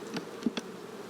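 Honeybees buzzing at a beehive nuc, a steady close drone with a few brief louder swells as individual bees pass near.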